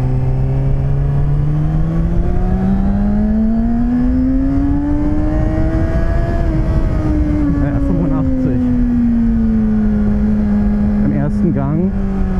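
Kawasaki Ninja ZX-6R 636 motorcycle engine revving hard in first gear, its pitch climbing steadily to a peak and then easing back, loud and continuous, with someone talking briefly near the end.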